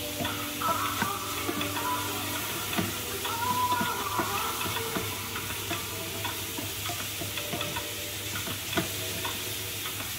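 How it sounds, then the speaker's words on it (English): Mushrooms fry in oil in a pan for Italian pasta, a steady close sizzle with scattered stirring scrapes and faint clinks throughout. "the mushrooms become like spongy and they suck the oil"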